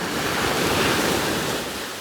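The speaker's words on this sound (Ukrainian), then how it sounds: "Слухайте оцей прибой моря." Sea surf washes in as a continuous, full roar of breaking waves with some wind noise, steady and close throughout.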